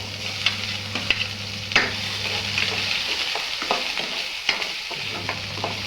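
Finely chopped onion frying on a low gas flame for sambar, a steady soft sizzle with a constant low hum beneath and intermittent sharp scrapes and taps of a spoon stirring in the pan.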